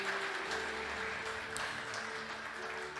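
A worship congregation at a church service applauding strongly, a dense wash of many hands clapping with steady, unbroken intensity and some faint voices mixed in.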